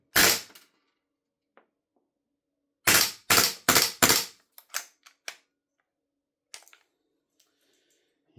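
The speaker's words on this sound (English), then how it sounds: "Might have to wait for the mags to normalise and do another full auto test on the standard mag." A B&T GHM9-G gas blowback airsoft gun fires on full auto: four loud, sharp bursts in quick succession, preceded and followed by a few scattered mechanical clicks and snaps, with no talking.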